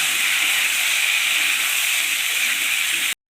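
Onions and new potatoes fry together in a pan, giving a loud, even hiss of sizzling oil that holds steady throughout before cutting off abruptly at the end.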